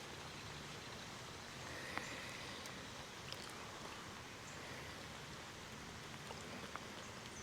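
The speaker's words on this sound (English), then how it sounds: "unless the rain picks up like crazy." Steady rain falls outdoors during a fishing outing, a soft continuous hiss with scattered light drops and occasional small taps, fairly faint and even throughout with no talking.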